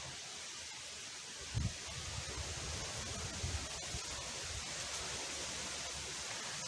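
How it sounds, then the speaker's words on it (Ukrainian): Broad, constant roar of strong wind, with a few low buffeting gusts against the microphone. "Такий вітер піднявся."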